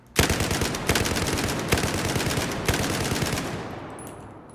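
Rapid machine-gun bursts from a U-100 MK5 in the shooter game Battlefield 4, loud and close, several quick strings of shots with brief gaps, tailing off into a fading echo.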